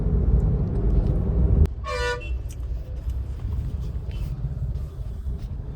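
Busy road traffic on arrival in Bangalore, a heavy rumbling engine drone cut off by one clear car horn toot, followed by lighter traffic noise and a few faint distant honks.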